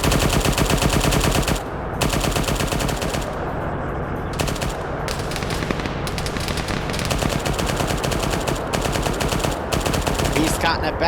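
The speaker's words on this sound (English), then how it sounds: "now you got a 50 cal firing" A .50 caliber machine gun in the video game Arma firing long, rapid bursts of loud gunfire almost without pause, with brief gaps between strings of shots.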